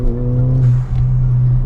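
A Ford Fiesta ST200 hot hatch fitted with Mountune parts holds a loud, steady engine drone at close range, dipping briefly before settling back into a sustained rev.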